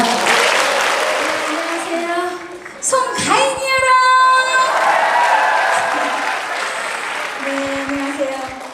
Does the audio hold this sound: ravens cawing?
no